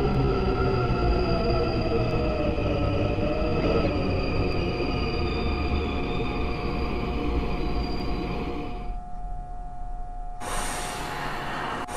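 Incheon Subway Line 1 train in the Hmmsim2 simulator, a steady loud rolling rumble with a sustained motor whine that drops away near the end, followed by a brief hiss.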